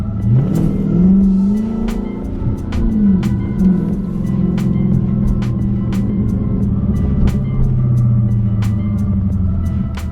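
A Dodge Charger Daytona 392 accelerates hard, its loud V8 engine note climbing and dropping through surging revs, with a steady run of faint ticking clicks in the background.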